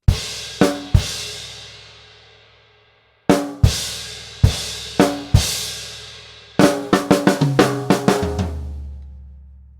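A drum kit plays a line for a grade 3 piece, loud crash accents ringing out with gaps between, then a rapid cluster of hits building into a fill that trails off into a low sustained tone.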